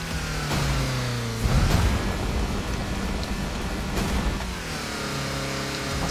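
Boreal B41 car in Roblox Driving Simulator accelerating, a steady engine drone with rising tones and broadband road noise, continuous and fairly close for several seconds, no talk.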